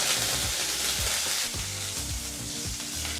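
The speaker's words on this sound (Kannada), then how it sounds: "ಜಜ್ಜಿದಂಥ ಬೆಳ್ಳುಳ್ಳಿ ಹಾಗೆ ಸ್ವಲ್ಪ ಕರಿಬೇವಿನ ಸೊಪ್ಪನ್ನು ಹಾಕಿ ಈಗ ಇದನ್ನು ಒಂದು ಮೂವತ್ತು ಸೆಕೆಂಡ್ ಫ್ರೈ ಮಾಡಿಕೊಂಡ್ರೆ ಸಾಕಾಗುತ್ತೆ" Crushed garlic and curry leaves fry in a hot pan for rasam, giving a loud, steady sizzle that runs throughout, with a few light clinks and stirring scrapes and no talk.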